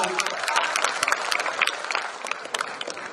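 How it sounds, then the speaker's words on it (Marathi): Audience applause at a young poets' poetry gathering, dense and steady clapping from many hands that holds at an even level for the whole stretch without voices standing out. "एकदा जोरदार टाळ्या घेऊन जाऊ."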